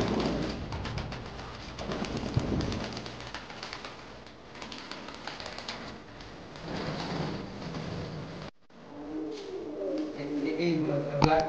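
Fancy pigeons, including black fantails, lakkhas and jacobins, coo repeatedly at close range in a loft while people talk nearby.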